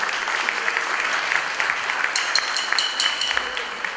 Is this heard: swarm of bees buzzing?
no